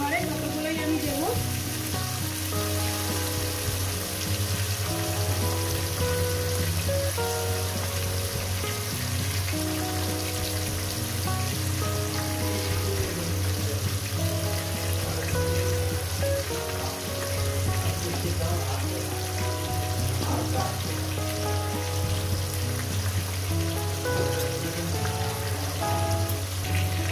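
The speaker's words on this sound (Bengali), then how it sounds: "প্রথমে মাছের মতো আমি এগুলো ভেজে নেব" Bhetki fish bones fry in oil, a loud continuous crackling sizzle that stays even and unbroken for the whole stretch, close up, with a low steady hum beneath and no speech.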